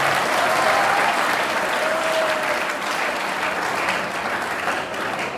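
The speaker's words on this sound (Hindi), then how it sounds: "तालियां बजाओ भाई सबके लिए" Audience applause fills the room as a broad, steady wash of many people clapping together, loud and sustained for around five seconds before easing slightly toward the end, with no talk on top.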